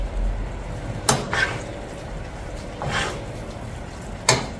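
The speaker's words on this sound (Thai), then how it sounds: "ผัดส่วนผสมให้เข้ากันอีกสักเล็กน้อยนะคะ" Noodle mixture for Thai rolled rice noodles with pork belly being stir-fried in a pan: a low continuous sizzle with a few sharp clanks of a utensil against the pan, fairly close.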